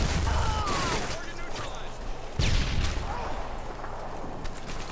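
An automatic shotgun in Modern Warfare 2 fires in a rapid string of heavy blasts, with one especially loud close shot midway, followed by further distant gunfire and battle noise.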